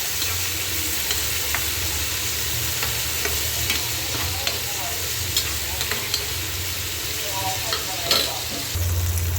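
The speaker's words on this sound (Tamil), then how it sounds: "உப்பு சேர்த்து நல்லா வதக்கி விடுங்க" Onion mixture with salt sautéing in a pan for dosa: a continuous soft sizzle of frying with occasional scrapes and taps of a spatula stirring, steady and close, no talking.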